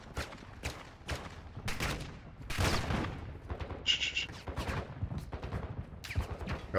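Bursts of gunfire from bot enemies in Call of Duty DMZ, sharp rapid shots and volleys popping repeatedly at mid distance, some louder cracks, with a brief electronic beep in between.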